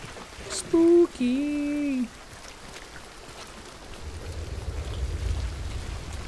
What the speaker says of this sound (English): Raining. It really do be coming down out there.